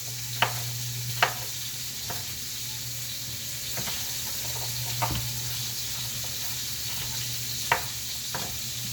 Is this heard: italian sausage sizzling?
yes